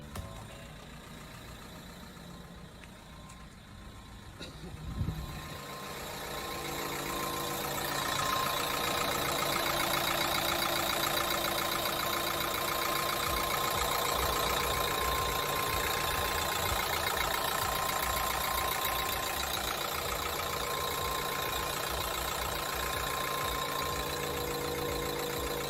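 A car engine runs steadily with a rough, repetitive knocking beneath its idle, close and moderately loud; after a brief quiet start and a small clunk, it settles into a continuous rumbling drone.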